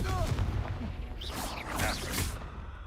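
A Confringo fire spell explodes in Hogwarts Legacy combat, giving several booming, whooshing blasts in the middle of a continuous loud game soundscape.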